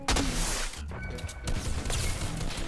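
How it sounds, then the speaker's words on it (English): Gunfire at the enemy in the video game Fortnite, a dense, loud burst of shots and impacts in quick succession, with brief voices underneath. "firing at the enemy."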